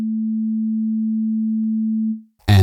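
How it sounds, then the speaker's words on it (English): A steady, pure sine tone holds at one low-mid pitch for about two seconds, fades out, then a short burst of speech follows. "sine waves have no overtones and therefore sound simple"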